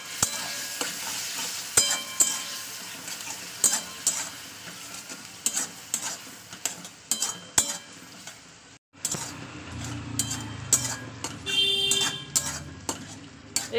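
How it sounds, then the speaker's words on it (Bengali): Tomato and ginger-garlic paste sizzle in a pan, with a spatula clattering and scraping against the metal in irregular strokes. The frying hiss stays close and steady through the whole stretch, and nobody talks. "দিয়ে দিচ্ছি আদা রসুন পেস্ট। তো ভালো করে এবার আমি এটাকে কষিয়ে নেবো,"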